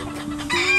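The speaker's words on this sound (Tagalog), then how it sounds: "Pero marami kaming klase ng manok." Chickens of several breeds clucking and murmuring close by on a farm, a busy farmyard chorus with a brief higher squawk toward the end.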